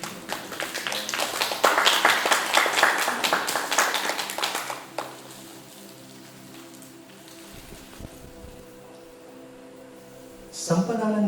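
An audience at a talk on Mantra Yoga claps to welcome a speaker, a dense patter of applause for about five seconds that fades out, leaving quiet room tone.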